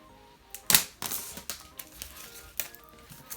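A tab being pulled to open a MacBook Air 2020 gold box, a sharp crisp rip followed by a run of smaller tearing and clicking sounds, close and fairly loud.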